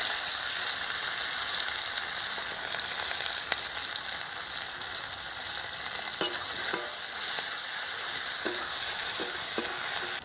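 Onion slices frying in hot oil as the base for a Bengali river bele fish jhal, giving a steady, loud close sizzle throughout, with occasional soft clicks of stirring.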